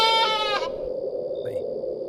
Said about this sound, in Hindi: अचानक मुझे झाड़ियों में से किसी बकरी के बोलने की आवाज आई।